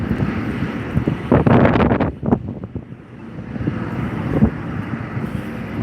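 Strong wind buffets the microphone on a downtown Las Vegas street, a steady roaring rush with louder gusts surging and fading over several seconds, close and harsh.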